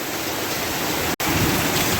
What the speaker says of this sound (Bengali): কি পরিমাণ বৃষ্টি হইতেছে দেখেন।